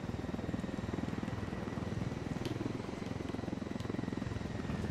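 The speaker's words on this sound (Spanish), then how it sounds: "Vaya forma de controles que tiene el helicóptero, macho." Helicopter rotor in Ghost Recon Wildlands on PS4, a steady rapid thudding chop with engine whine, held at even loudness throughout with no talk over it.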